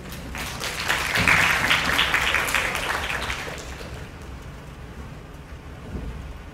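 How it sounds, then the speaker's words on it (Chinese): An audience at a Taiwanese working-holiday information session in Tainan claps in a broad burst that swells quickly, holds for a few seconds and then gradually thins out, with heavy rain reported outside. "请大家热烈掌声欢迎。"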